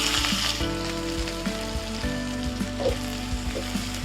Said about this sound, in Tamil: நல்லா ப்ரௌன் கலர் வர அளவுக்கு வறுத்துக்கணும்.